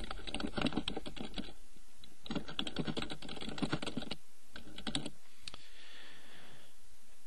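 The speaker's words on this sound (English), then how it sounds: "So I am going to type in the title" Typing a title on a computer keyboard: rapid bursts of close key clicks in several runs separated by short pauses, ending with a few isolated taps.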